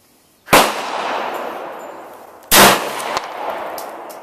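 Two pistol shots, likely from a CZ 82, fired outdoors at a Hawaiian Punch can target: two sharp, loud cracks about two seconds apart, each trailing into a long echoing decay, with a faint metallic click after the second.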